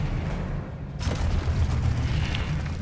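A spell explosion in the Hogwarts Legacy video game, heard as a single sudden booming burst that decays into a rumbling tail against a continuous low background, with no talk.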